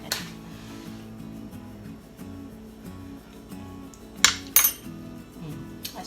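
A metal spoon clinks against dishes while baked macaroni and cheese is prepared, with a few sharp chinks, two grouped near the end, over quiet kitchen background.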